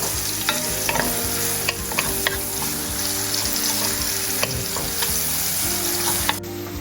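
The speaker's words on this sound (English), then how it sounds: "So we'll add the onions and saute them a little bit." Onions sautéing in a pot for a tortellini and vegetable soup, a steady close sizzle of frying with repeated scraping and clinking of a spoon stirring through the pan, no voices.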